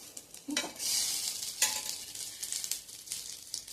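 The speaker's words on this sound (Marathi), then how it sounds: "दुसऱ्या बाजूनी पण छान असं गोल्डन कलर येईपर्यंत मी हे भाजून घेतलंय." Crisp corn tikki fries in a pan, a soft steady sizzle rising into brief hissing bursts as it is moved or turned, close but fairly quiet, with no talking.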